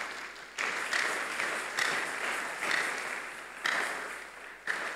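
Congregation applauding during a church service, a dense, steady wash of clapping that swells in several waves, fairly distant and without speech.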